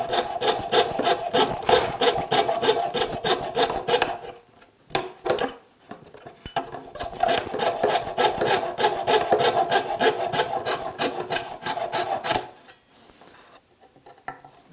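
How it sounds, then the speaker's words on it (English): A hand rasp worked along the grain around a bent-lamination wooden clock circle, giving steady rhythmic rough scraping strokes, close and fairly quiet, with a short pause midway before the strokes resume. "Now I'm just going to grab a rasp and doing my best to work with the grain around the circle, polish this up."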